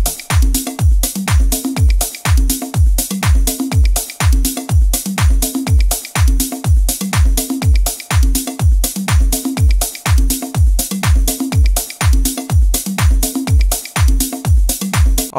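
Soulful house drum pattern looping in Ableton, with a punchy four-on-the-floor kick under steady hi-hats, claps and light percussion, loud and even with no talking.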